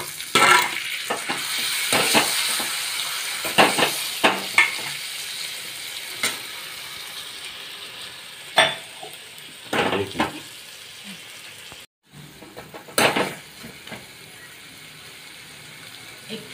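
Masala fried with brinjal in a pan sizzles softly while a spoon scrapes and stirs in irregular bursts, all close by.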